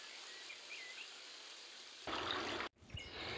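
A river stream in Kikuchi Gorge murmurs softly and steadily, with faint bird chirps in the quiet first half, then a louder rush of water close by.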